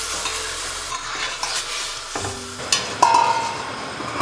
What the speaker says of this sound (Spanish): Hemos echado nuestra carne y estamos cocinando a fuego alto.